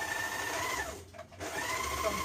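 A sewing machine, likely a serger, runs steadily to finish a raw fabric edge against fraying while sewing a dress, pausing briefly midway before resuming its loud, continuous whir.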